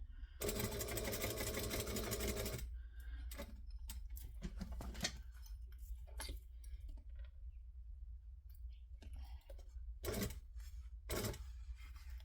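A sewing machine stitching fabric down, a fast continuous run of stitches at the start followed by slower, intermittent bursts of stitching and clicks, fairly close and without any talking.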